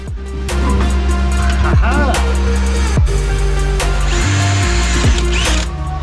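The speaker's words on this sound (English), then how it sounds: "We're drilling with one hand." A power drill whines steadily while drilling on a manual C8 Corvette drift car, revving and pausing a few times across several seconds, loud and close, with no talking.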